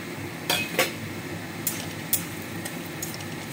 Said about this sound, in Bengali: বাদাম দিয়ে দিচ্ছি